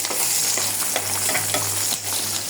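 Onion dropped into hot oil for a baghar tempering over a beef and jackfruit curry, producing a strong, steady sizzle with light crackles, close and without any voices.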